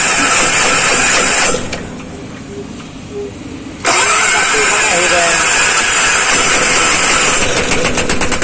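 Bajaj Maxima auto rickshaw diesel engine with a fault, starting up close and loud, a rough clattering run that drops quieter for a couple of seconds before surging back strongly, with a voice speaking over it.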